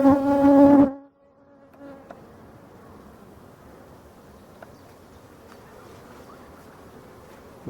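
Honey bees buzz steadily around a small nucleus hive that has been moved into a full hive, a faint continuous hum with a few light knocks, following a brief louder tonal burst at the start.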